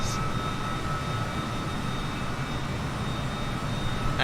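Airliner engines in Microsoft Flight Simulator during a touch-and-go at the Canary Islands roar as a steady, dense jet drone with a faint whine, continuous and loud throughout with no talking.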